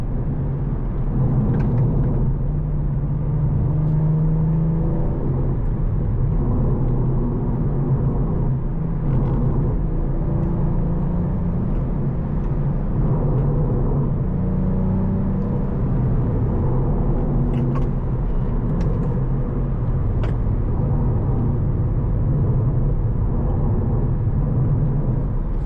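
A 2023 Cadillac CT4-V is driven fast over a gravel-covered road. A steady low rumble fills the car, with faint scattered ticks and crunches over it throughout.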